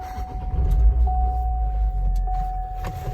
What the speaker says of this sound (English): First time driving a Hummer